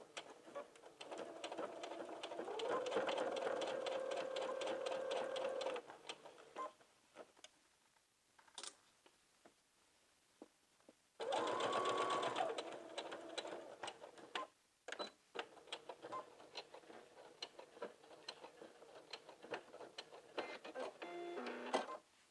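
Two bursts of a machine's fast, buzzing whir come from stitching a carrier onto a skirt, with softer clicks and handling noises between and after them.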